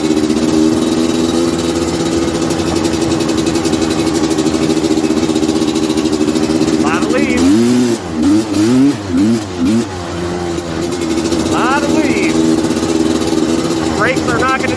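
A Suzuki LT250R quad engine drones loudly and steadily while riding, then revs up and down in several rising and falling surges before settling back to a constant roar; a voice talks over it.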